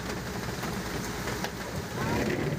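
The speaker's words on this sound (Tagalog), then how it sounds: "na abtan kami ulan ni Frankie oh" Steady rain falling, a dense broadband hiss with faint patter that swells slightly toward the end; no clear voices.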